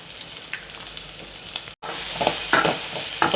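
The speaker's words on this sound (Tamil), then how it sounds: "இது சிம்லே கிடந்து நம்ம ஒரு 5 நிமிஷம் நல்லா வதக்கணும்" Okra sautéing with chopped onion and curry leaves in a pan makes a steady sizzle and scrape, with stirring strokes building toward the end after a brief break, and no voices.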